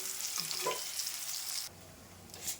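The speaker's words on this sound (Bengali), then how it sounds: "ভাবলাম ঘরে ফুলকপিটা রয়েছে তো ওটাই আজকে ভেজে দিই" Cauliflower frying in a little oil in a home kitchen, a steady close sizzle with faint stirring scrapes, dropping slightly in level partway through.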